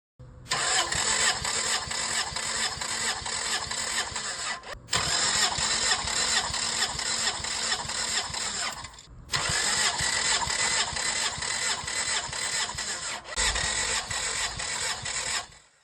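A Toyota Corolla 1ZZ-FE engine cranks in three long bursts of about four seconds each, separated by short pauses, for a compression test. It is a steady, rapid whirring churn heard loud and close without firing.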